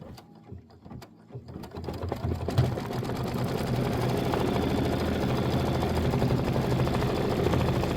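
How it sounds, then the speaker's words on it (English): Computerized embroidery machine stitching a tail tack-down line on a Kimberbell Thanksgiving pillow design, starting with a few scattered clicks before settling into a steady, close, fast mechanical chatter that runs continuously without talk. "So it's going to stitch the tail tack down line, and then we're going to trim, and then we will go ahead and do the satin outline."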